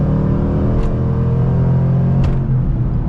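A loud 2013 Ford Mustang GT engine roars steadily from inside the car, a deep continuous rumble as it revs and pulls hard, with two brief gear-shift blips and no voices.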